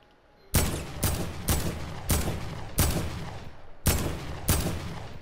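Seven sharp, loud gunshots from the Fortnite battle royale game, fired one by one at a steady pace with reverberant tails that trail off between them, and no talking during the shots.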